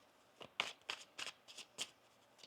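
Tarot cards being shuffled by hand, a handful of quick riffling bursts close up and fairly quiet, with no voice over them.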